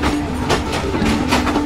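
A passenger train running along the Tazara railway between Tanzania and Zambia, wheels clattering in a steady clickety-clack rhythm over the rails amid a loud rolling rumble, close and continuous.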